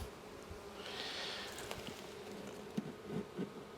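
Honey bees from a small colony in a beehive, a soft steady buzzing hum that carries throughout, with a few faint knocks and rustles near the end.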